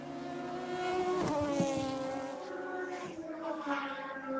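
Radical Cup race cars pass at Road Atlanta on a high-revving engine note that swells to a peak and then fades, with a second car following close behind.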